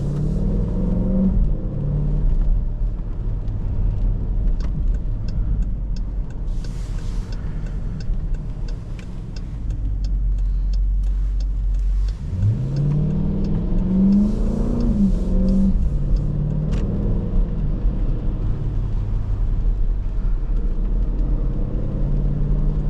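A 2023 Dodge Durango SRT 392 with its 6.4-liter V8 rumbles steadily up close, then swells into a louder rising rev as it accelerates hard, with no talking.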